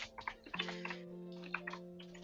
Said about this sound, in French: Comme ça, vous m'entendez taper sur le clavier